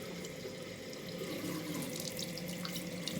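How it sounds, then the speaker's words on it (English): Lukewarm tap water runs steadily into a bathroom sink, a continuous close splashing hiss with no talk over it. "All right, then I get my water going."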